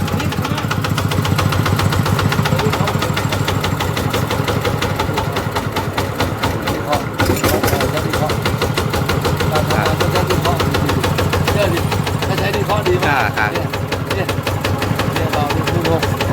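A tractor engine at a farm machinery shop in Suphan Buri idles smoothly and steadily with a rapid, even mechanical knocking pulse, close and loud throughout, while someone talks over it.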